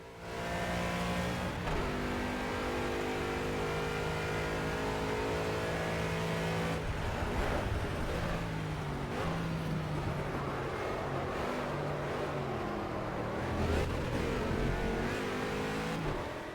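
Race car engine from the Project CARS racing game, a loud continuous drone that revs up and shifts pitch through gear changes, with no talk over it.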